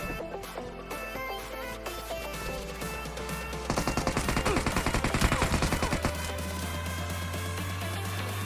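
PUBG Mobile gunfire during a solo-versus-squad fight: a steady stream of rapid shots under background game music, rising into a louder, denser burst of automatic fire midway before easing back to a continuous rattle.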